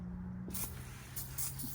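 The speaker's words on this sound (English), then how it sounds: "at the end of it, it just has you spray it with glass cleaner" Glass cleaner is sprayed onto a car headlight during a restoration with a Meguiar's Heavy Duty Headlight Restoration Kit. A soft hissing burst comes close up after a quiet start, over a low steady hum.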